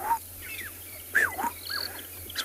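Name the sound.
black-headed oriole calling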